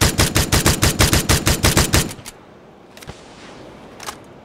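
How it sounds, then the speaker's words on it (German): Automatic rifle fire in PUBG: Battlegrounds as a magazine is emptied, a loud, steady burst of about twenty rapid shots lasting two seconds, followed by quieter isolated clicks and thuds. "Ich kann meine Munition leer schießen."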